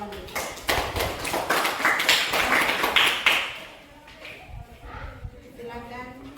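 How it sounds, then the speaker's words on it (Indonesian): Classmates in a school classroom clap together for a few seconds, a dense patter of hands that fades out, followed by voices talking. "Ayo jangan malu-malu, tepuk tangan dong buat teman-teman"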